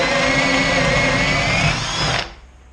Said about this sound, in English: We'll start by drilling the first hole.